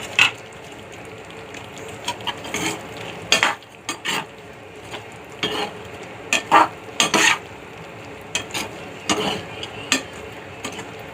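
Paneer is stirred through masala in a pan, with a spoon clinking and scraping against metal in irregular bursts over a faint background sizzle, close by and without voices.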